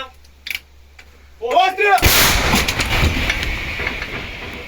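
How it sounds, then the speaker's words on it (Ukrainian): A loud, sharp boom of an artillery cannon firing bursts out after a brief voice, followed by a long rumbling, crackling decay that fades slowly. "Гармата!"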